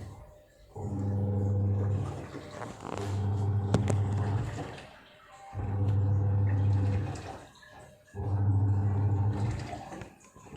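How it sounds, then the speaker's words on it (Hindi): A Samsung 6.2 kg top-load fully automatic washing machine churns clothes in its wash cycle, four loud rhythmic agitation bursts of a few seconds each, separated by short pauses, close by. "तो अभी कपड़े को वॉश कर रहा है।"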